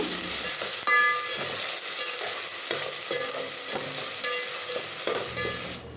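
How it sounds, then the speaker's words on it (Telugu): Onion frying with ginger garlic paste in a pan, a steady sizzle broken by repeated scraping stirs of a spatula at a regular rhythm, close and clear with no talking. "వన్ టేబుల్ స్పూన్ అల్లం వెల్లుల్లి పేస్ట్ వేసుకొని పచ్చి వాసన పోయేంత వరకు అయితే ఫ్రై చేసుకోవాలి"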